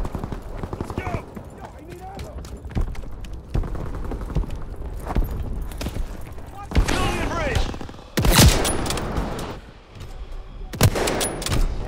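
Gunshots and scattered fusillades in a Call of Duty: WWII multiplayer battle, with sharp bursts and heavier blasts toward the end, mixed with the game's clatter and ambient battle noise.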